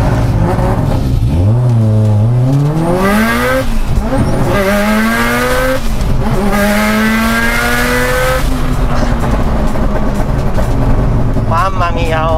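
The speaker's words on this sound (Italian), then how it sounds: "Infatti giri il motore, se guardi adesso sono saliti." A Subaru Impreza Spec C Type RA engine revs loud and close, pitch sweeping up and falling back in repeated pulls over about twelve seconds, with excited voices in the background.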